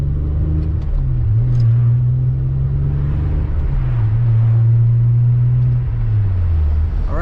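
Steady road noise from a car cruising at a constant 40 to 45 mph, a continuous low engine drone and tyre rumble with slight pitch shifts, close and loud throughout.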